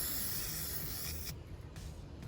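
Silver paint spraying from an aerosol can onto parts in a shop where a Pontiac G8 is being LS-swapped, a steady close hiss that runs about a second and a half and then breaks into short bursts.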